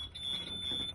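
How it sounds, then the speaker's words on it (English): A school bus low air pressure warning buzzer sounds as the brake air drops below about 70 during a pretrip check, a steady high electronic tone held for the full second over faint cab rumble. "I have my audible, different alarm, and then the low air warning light came on"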